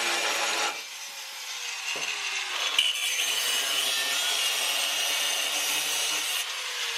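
Power tool cutting through car body sheet metal, a loud steady grinding rasp that holds almost throughout with brief dips in pitch, close up and with no talking.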